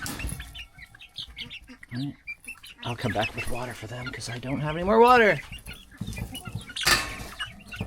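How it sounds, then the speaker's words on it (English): Sussex-mix chickens cluck and call on a farm, close and intermittent, while a person talks over them. "the others are a mix of my Sussex rooster and some of my other hens"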